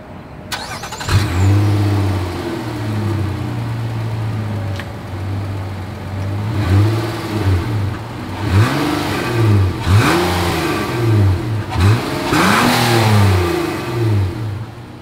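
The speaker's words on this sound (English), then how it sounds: "As always, here is that exhaust clip." A 2024 Nissan Murano's exhaust fires up with a loud start, settles into a steady idle, then gives a series of sharp revs that climb and fall in quick succession, heard up close with no talking.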